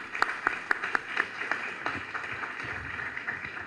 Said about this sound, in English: So a loud applause to them.